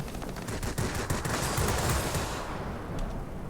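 Machine gun fire from an F5F Skyrocket fighter in World of Warplanes: a rapid, sustained burst of loud rattling shots that tails off near the end, with no talk.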